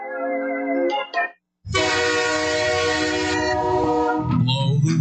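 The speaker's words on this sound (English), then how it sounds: "Blow the whistle. Going off the rails. The train!" Train horn or whistle sound effect: a long sustained tonal blast with rich harmonics and a rumbling rail-vehicle bed beneath, loud and close, preceded by a shorter tone that breaks off into a brief silence.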